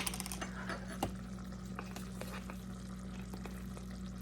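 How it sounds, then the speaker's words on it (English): Onion, celery and garlic sautéing in butter for Thanksgiving stuffing: a faint, steady sizzle under a low hum, with a few soft utensil taps near the start and no talking. "I've got the onion, celery, and garlic sauteing in the butter"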